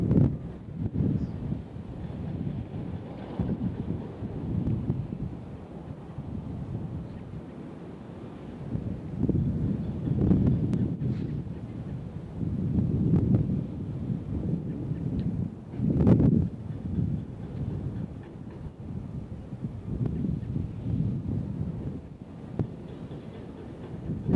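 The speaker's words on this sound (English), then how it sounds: "the wind's picked up a little bit, which I appreciate, it's cooling it off out here" Wind gusts across an outdoor microphone at Nashville International Airport, a low rumbling buffet that swells and eases in waves, with one stronger gust near the middle.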